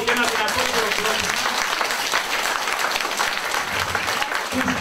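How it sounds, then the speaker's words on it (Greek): Loud, sustained applause from an audience at a Greek senior citizens' centre event in Neapoli, dense clapping filling the whole stretch without pause. "ένα μπράβο και ένα δυνατό χειροκρότημα"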